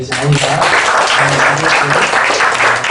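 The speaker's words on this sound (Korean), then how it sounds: "박수 한번 해주세요" A church congregation claps in a Sunday service, steady applause continuing throughout while a voice speaks over it.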